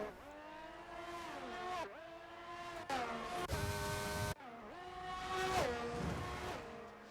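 Ferrari race car engines in a sim racing video game, loud high-pitched wailing revs with repeated upshifts and sharp drops in pitch, engines overlapping as cars run close together.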